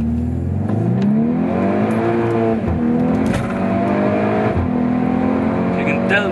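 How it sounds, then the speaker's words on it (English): A 2012 Volkswagen Scirocco R in sports mode accelerates hard on the road, its engine and boomy exhaust rising in pitch through the gears, loud and close, with someone talking over it. "not only is the engine more responsive, you can hear the exhaust properly as well, which makes quite a lot of boomy sound"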